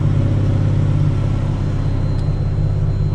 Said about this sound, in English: As you can see, about a 900 RPM idle, and when it's fully warm that'll get down to about 800.